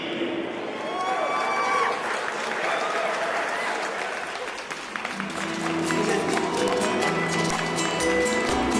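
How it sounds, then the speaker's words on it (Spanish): A crowd applauds continuously with dense, steady clapping, while voices and music sound faintly beneath it. "Fuerte el aplauso"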